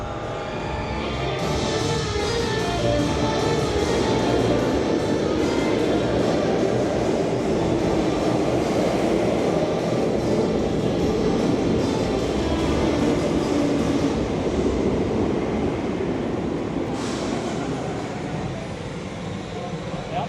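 The Verbolten roller coaster train at Busch Gardens Williamsburg roars past in a continuous loud rush, swelling and then easing slightly toward the end.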